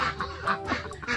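Ducks quacking in a farmyard in Vietnam, several nasal calls close by in short bursts over a steady low background, with no talk.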